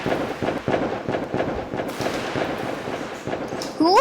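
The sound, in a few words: fireworks and firecrackers in a video game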